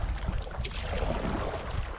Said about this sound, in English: Pretty good wind too, actually.